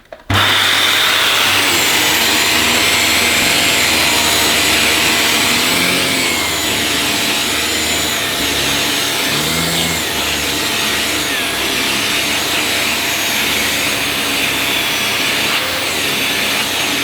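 A Dyson Cinetic Big Ball Animal vacuum cleaner runs continuously and loudly while picking up dog hair, a steady, dense motor roar with airflow hiss and slight shifts as it moves, no talking.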